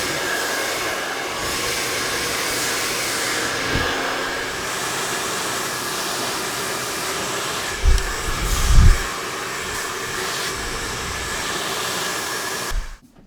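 A hair dryer blows steadily on hair for the whole stretch, switching from a heat setting to the cool button, with a constant loud whooshing hiss and a few low bumps near the end.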